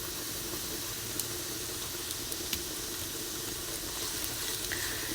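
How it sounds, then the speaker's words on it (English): Vegetables steam and sizzle in a pan cooking alongside sausages, a soft, even hiss with faint crackles and a few small pops, quiet and continuous with no voices. "You can hear the veggies steaming away as they do."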